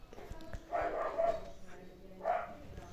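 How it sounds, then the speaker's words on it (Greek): Fifi, a pet dog, barks indoors in two short bursts, a cluster of yaps followed by a single louder bark after a pause, fairly close and over a low room hum. "όσοι ξέρετε έχω σκυλί, γι' αυτό κάνει έτσι"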